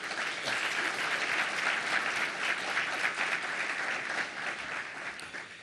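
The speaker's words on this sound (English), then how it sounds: "Please give them a round of applause." Steady, dense applause from a sizable audience, clapping continuously throughout at an even level before easing slightly at the end.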